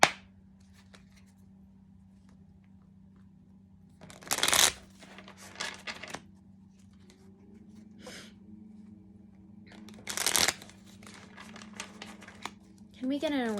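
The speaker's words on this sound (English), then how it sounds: "we're just going to pull one more blessing card from the Awakened Dreamer" Oracle cards from the Awakened Dreamer deck shuffled and drawn in two short, close riffling bursts, separated by quiet stretches over a low steady hum, with a brief voice near the end.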